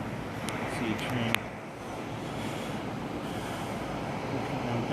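A train rolling along in Minecraft PE, a steady rumbling rail noise with faint metallic clicks early on, continuous and moderately loud throughout.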